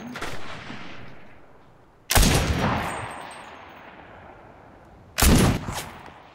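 Gunfire in the battle-royale game Cuisine Royale: two sharp, loud bursts of shots about three seconds apart, each decaying into a long echoing tail, with a fainter shot at the start.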